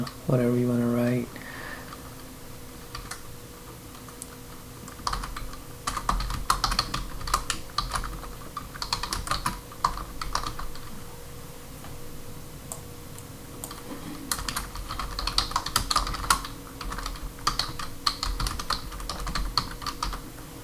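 Fingers typing on a computer keyboard in bursts of rapid clicks with short pauses, close and clear, and a person talks briefly before the keystrokes begin.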